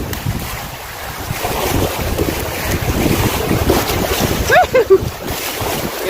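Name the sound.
canoe running class one river rapids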